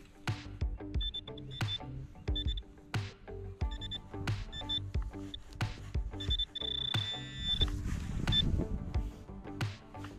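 Repeated short electronic beeps and warbling tones from a Garrett AT Pro metal detector sweeping ground after fireworks, a penny target ringing up, sounding close over soft scraping and ground noise.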